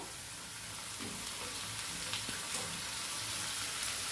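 Onion, green chili and tomato frying together in a pan, giving a soft, even sizzle with faint stirring clicks, continuous and fairly quiet with no voices.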